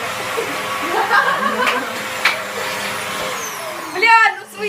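A household vacuum cleaner runs with a steady whirring drone, with people talking and chuckling over it nearby and a brief rising whine near the end.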